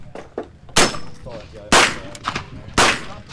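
Three sharp, loud gunshots from a Genesis 8.6mm PDW carbine fired unsuppressed, spaced about a second apart, each with a bright crack and ringing tail, with faint background chatter between shots.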